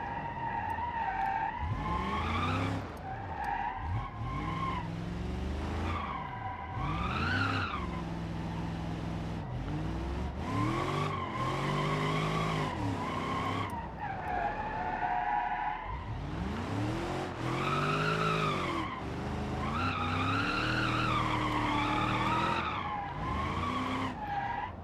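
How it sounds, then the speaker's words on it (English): In the BeamNG.drive video game, a cop car drifts with its tires squealing almost constantly in long wavering wails over the engine roar, loud and close with only brief gaps, and no talk. "The tires are constantly squealing."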